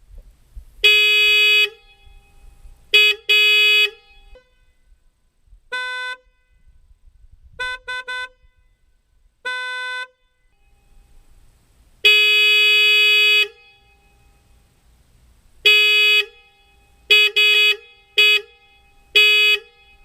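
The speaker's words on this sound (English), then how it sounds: "I was having fun doing a little back and forth honk off" Sonic Blast horns newly installed on a Ford Crown Victoria trade loud, near bursts with another horn, about a dozen short and long honks in alternating back-and-forth groups, with quiet gaps between and no talking.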